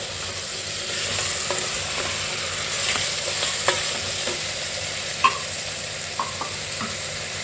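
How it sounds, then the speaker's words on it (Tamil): Boiled raw jackfruit is stirred into masala frying in a pan for a Chettinad fry, with a steady sizzle throughout and occasional scraping clinks of the spoon against the pan. "இந்த வேக வச்ச பலாக்காயை நம்ம இதில் போட்டுடலாம். போட்டுட்டு நல்லா மிக்ஸ் பண்ணிவிட்டு"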